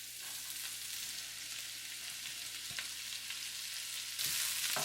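Beef, carrot and cabbage stir-fry in a pan with a steady, quiet sizzle and a couple of soft stirring knocks, the frying briefly swelling louder near the end.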